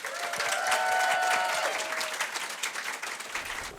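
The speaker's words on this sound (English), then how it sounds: "A huge round of applause for my wonderful panellists." Enthusiastic applause from an audience at a sex-education panel event, welcoming the panellists; a full burst of clapping with some crowd noise, loud throughout and easing slightly toward the end.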